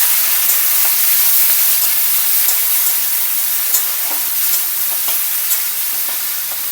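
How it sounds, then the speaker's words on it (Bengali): Onion, chili and ginger fry in hot oil in a wok, giving a loud, continuous hiss scattered with small crackles and pops, close up and without speech. "কড়াইতে তেল দেওয়া হয়েছে তেলটা গরম হলে পেঁয়াজ দিব পেঁয়াজ মরিচ আদা সব এক লোক দেওয়া হয়েছে"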